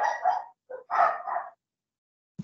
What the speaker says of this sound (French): Petit chien.